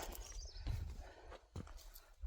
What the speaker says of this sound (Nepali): घोडा भागो, ओह्रालै झरो।